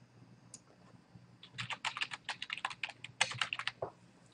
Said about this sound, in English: put in my username and password so you don't see it